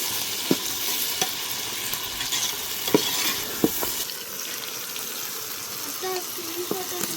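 Green chilli, ginger and garlic frying in a pan for biryani, stirred steadily with a spoon, giving a continuous sizzle broken by a few sharp scraping knocks, moderately loud and close, with no talk.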